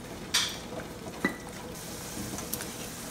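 Cashews and raisins frying in hot oil for Kerala chicken dum biryani, a soft steady sizzle with a few sharp stirring clinks from a spoon against the pan.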